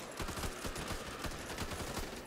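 Rapid automatic gunfire in the zombie shooter Back 4 Blood, a fast string of sharp repeated shots firing in quick bursts across two seconds, fairly quiet overall with no talk.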